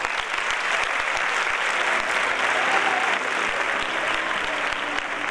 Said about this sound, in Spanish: Fuerte aplauso, y con ese aplauso despedimos tanto a nuestro alcalde como a nuestra alcaldesa pedánea